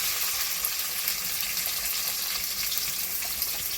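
Chopped onion and tomato fry in hot oil tempered with nigella seeds, whole cumin and five-spice. The result is a constant close hiss of sizzling with no talking.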